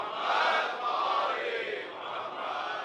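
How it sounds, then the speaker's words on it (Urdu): A large gathering at a Majlis-e-Aza recites salawat together, a loud, swelling mass of unison voices that rises, dips and rises again across about three seconds. "تو اب ایک بلند صلوات ہدیہ کریں"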